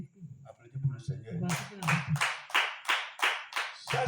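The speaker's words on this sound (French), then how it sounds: "Applaudissez pour le Seigneur" Church congregation clapping for the Lord during a French sermon, with talk and singing voices first, then about seven loud, evenly spaced claps in unison building a steady rhythm.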